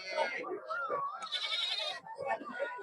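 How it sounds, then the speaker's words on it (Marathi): Goats bleat at a goat and sheep market in Sangola, with several wavering calls up close mixed with people talking nearby. "हे शेळ्या बघा."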